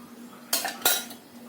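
A spoon scraping and clinking against a cooking pot while stirring after hot water is added, two sharp metallic knocks and light scrapes over a faint steady hum.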